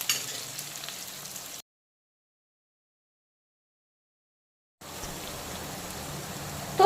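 Chopped onion frying in oil for a dhaba-style mutton curry, a soft steady sizzle with a gap of silence midway before the crackling resumes, close and fairly quiet with no voices.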